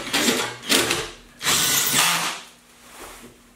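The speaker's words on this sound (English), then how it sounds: "you're gonna definitely need a hammer drill, and you need to drill pilot holes first" A hammer drill bores pilot holes for concrete screws while a mini-split AC unit is mounted, giving three loud, close bursts of grinding noise with short pauses between them.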